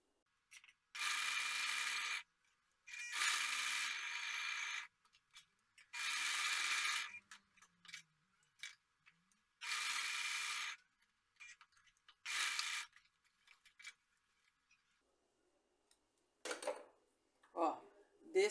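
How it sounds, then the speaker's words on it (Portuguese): A sewing machine running a straight stitch around the petals of a fabric flower placemat, in several separate bursts of a few seconds each with quiet pauses between, close and steady, followed by faint handling sounds. "Agora eu vou vir com um pezinho de máquina fazendo cada folha."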